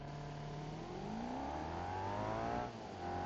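A V8-powered car accelerates hard from a standstill during a 0 to 60 run, its engine note climbing steadily in pitch, loud and close with no talking.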